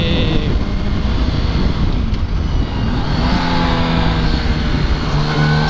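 A motorcycle engine drones steadily and rises in pitch while the bike rides along the road, loud and close over broad wind and road noise.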